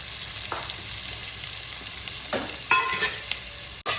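Chopped onions frying in hot oil with a cinnamon stick and clove for homemade prawn semiya: a steady, close hiss of sizzling with a few soft stirring scrapes and one sharp knock near the end.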